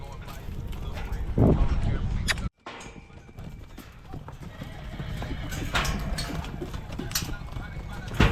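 Horse hooves clip-clop steadily on a hard surface in the back pens at a rodeo, amid ongoing noise, with people talking throughout and a brief dropout partway through.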